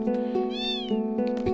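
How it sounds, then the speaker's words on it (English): A cat meows in Final Fantasy VIII, one clear, drawn-out mewing call rising and falling over a steady tonal musical drone, with soft footstep-like taps around it. "A cat."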